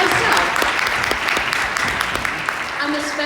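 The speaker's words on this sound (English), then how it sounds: "I think that deserves a little bit of a round of applause myself." Summit audience applauding, a dense wash of clapping that holds steady and fairly loud throughout, with a voice briefly heard beneath it near the end.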